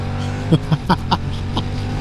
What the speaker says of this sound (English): Oh, listen to that motor.